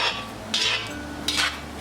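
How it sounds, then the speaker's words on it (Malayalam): Beef frying in vegetable oil for a meat pickle is stirred in a pan, with two short scraping strokes of the utensil over a soft, constant sizzle. "നമ്മളിത് ഇളക്കി ഇളക്കി തന്നെ ഫ്രൈ ചെയ്തെടുക്കണം."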